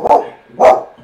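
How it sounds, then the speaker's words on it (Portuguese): Dogs bark in the background, two sharp close barks about half a second apart with a faint trailing yip, no talking over them. "Cachorrada latindo."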